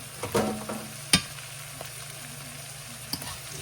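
Eggs being pushed to one side of a hot frying pan while making loaded fried rice, giving a faint sizzle with a few soft scrapes and a sharp utensil tap near the middle, with a low steady hum underneath.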